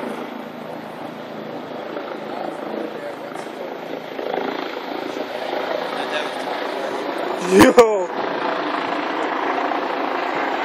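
Police helicopters circle overhead above Central Park during a police chase, a steady rotor drone under close casual talk, with a brief loud knock partway through.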